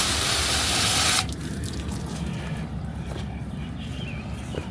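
A water spray hits the frame of a 2016 GMC Yukon Denali. The spray starts loud and hissing, then drops to a steadier, softer wash that patters on for several seconds.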